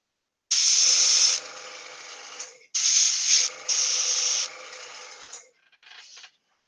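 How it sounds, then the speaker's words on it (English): An airbrush spraying paint onto miniatures gives off a few bright hissing bursts separated by short silences, up close, and the last burst is quieter. "We are done with the airbrushing for the evening."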